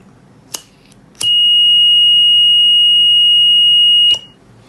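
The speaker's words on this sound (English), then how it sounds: "the buzzer and beacon light active when this sensor detect the heat" A fire alarm buzzer triggered by a heat-sensing flame sensor gives a short chirp, then a loud, steady, shrill electronic tone for about three seconds before cutting off abruptly, close and alone.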